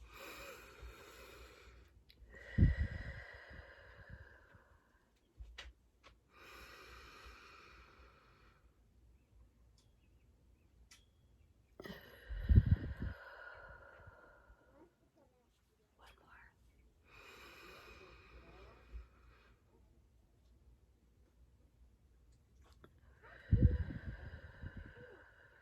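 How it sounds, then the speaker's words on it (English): A person takes loud, deep breaths, three long breathy inhale-and-exhale cycles spaced several seconds apart, heard close with quiet gaps between them. "Take a few deep breaths."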